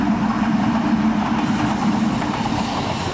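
A Euskotren train on the Urdaibai branch line in the Basque Country rumbles steadily along the rails, a continuous close roar with faint rhythmic clatter throughout and no voices.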